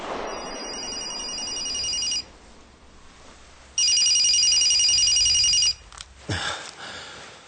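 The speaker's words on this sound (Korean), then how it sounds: "요란한 전화음이 울린다." A telephone bell rings loudly in two long bursts separated by a pause, a staged sound effect in a Korean radio drama; a brief thump follows near the end.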